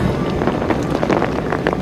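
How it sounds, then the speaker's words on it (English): Gust of wind blowing across a natural lake during winter pole fishing, a steady rough rushing buffeting the microphone for a couple of seconds, close and fairly loud with no voices. "Then a huge gust of wind as well."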